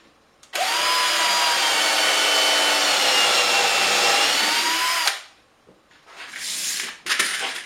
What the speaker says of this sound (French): Je vais maintenant percer, chanfreiner avec ce genre de mèche directement pour que ça soit plus solide.